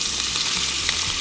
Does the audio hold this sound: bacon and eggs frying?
yes